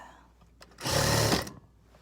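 A sewing machine stitches the ties of an isolation gown made from bed sheets, a close, steady whirring burst of under a second that stops abruptly, quiet before and after.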